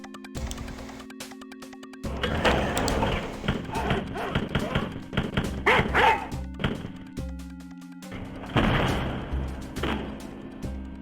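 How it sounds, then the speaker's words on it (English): Dogs bark in the retro shooter Wolfenstein 3D, several sharp, loud digitized barks mixed with thudding gunfire and looping game music, close and punchy throughout. "Dog."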